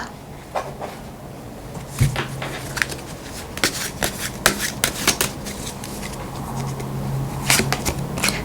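Rune and tarot cards being shuffled and handled up close, a series of crisp riffling flicks and soft slaps of card stock in an irregular rhythm, with no talking.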